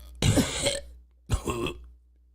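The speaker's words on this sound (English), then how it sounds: "I think I need to really clear my throat right now." A person clears their throat twice in quick succession, two short, rough, raspy bursts close to the microphone, separated by a brief pause over a low background hum.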